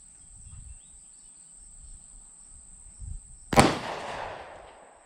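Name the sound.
Llama 1911 clone pistol shots being fired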